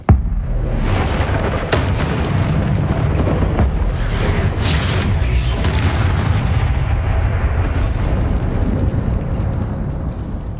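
Explosive blasts from Bombarda and Confringo spells in the Hogwarts Legacy video game, several loud booms and bursts in steady succession over a dense rumbling background of combat noise.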